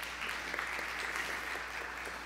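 A church congregation at an Easter service claps for the band, steady dense applause at moderate level with individual hand claps audible throughout.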